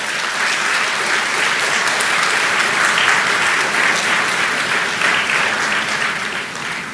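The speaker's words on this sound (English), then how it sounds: "Please give all the graduates a round of applause." Graduation ceremony audience applauds the graduates, a steady, dense wash of clapping from a large crowd that holds at full volume throughout with no talk over it.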